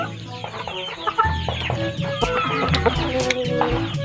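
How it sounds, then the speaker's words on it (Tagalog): Several chickens cluck continuously and close by on a mountain farm lot in the Philippines, with overlapping calls and a steady background murmur of farmyard noise. "Maya magpakain tayo ng mga manok."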